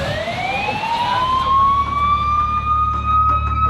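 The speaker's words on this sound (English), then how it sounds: "The ambulance is coming and you'll go for a ride in the ambulance, okay?" A loud wailing siren rises and holds steady, with a rumbling engine underneath, sounding close and continuous.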